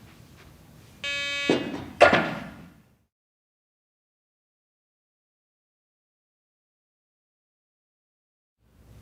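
A Garrett walk-through metal detector sounds its alarm as a thrown weapon passes through: a short, loud electronic buzzing tone with a thud, followed by silence.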